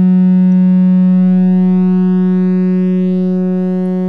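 A steady electronic sine-like tone from a Serge synthesizer with an extended ADSR envelope, decay control being adjusted, holds at one pitch with a strong harmonic stack, loud and continuous, fading slightly in level toward the end.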